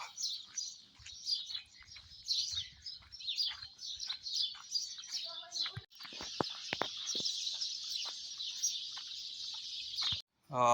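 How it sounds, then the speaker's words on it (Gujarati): Sparrows chirp busily around a house in the morning, with many overlapping high tweets in dense, quick bursts. The chirping is fairly close and continuous, with a few lower clucking notes and almost no talk. "હવે મને ચકલા કેવા બોલતા હોય જો"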